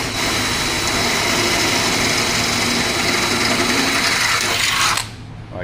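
A power drill boring a 9/32 inch hole through sheet metal of a truck body, a steady close whirring drone lasting about five seconds before cutting off abruptly.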